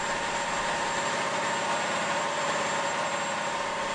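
A steady, droning engine of a wire-tensioning generator on a bridge construction site at sea, running continuously at constant level with a faint high whine, no voices.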